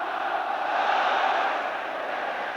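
A big stadium crowd roars steadily and loudly throughout a Norwich City versus Bayern Munich UEFA Cup second-round match in 1993, a dense, continuous wall of cheering with no breaks.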